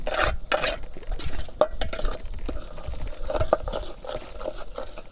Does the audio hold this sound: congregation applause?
no